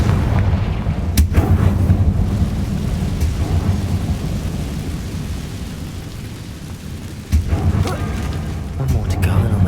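A Confringo fire spell goes off in the Hogwarts Legacy video game as a booming, rumbling blast, with a second sharp burst near the end over a continuous low roar of game ambience.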